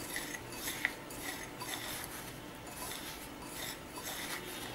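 A spoon scrapes and stirs ground red poha flour and jaggery in a bowl as ladoo mix is made: a steady, faint, gritty scraping with light clinks of metal and no talk.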